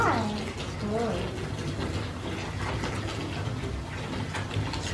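Coca-Cola foams and fizzes with Mentos, a steady hissing bubbling close by, while people talk over it.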